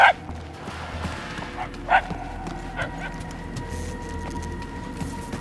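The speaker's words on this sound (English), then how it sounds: "The yapping is getting louder." A dog yaps in short, sharp bursts in Guardians of the Galaxy, a few spaced barks that sound somewhat distant over a low ambient hum, with faint voices in the background.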